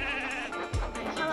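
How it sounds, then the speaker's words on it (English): A sheep bleats once in a Thomas & Friends mobile game, a short wavering cry over a busy background of game music and ambient sound. "Sheep."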